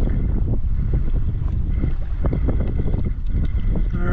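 Steady wind roaring across a small boat crossing open water near Fort DeSoto Park, a constant dense buffeting rush with low rumble and faint splashes, no voices.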